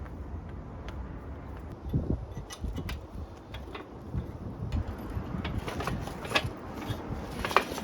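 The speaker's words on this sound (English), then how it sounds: "So we're going to have to turn the crank to prime it" A ratchet wrench turns the crankshaft of a 1978 Datsun 280Z engine to prime the oil pump, giving irregular, fairly close mechanical clicks and clunks against a low garage background, with no talking.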